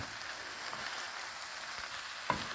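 Frozen peas stirred into a pan for börek, giving a soft steady sizzle with light scraping and one small clink near the end, quiet and close, no voices.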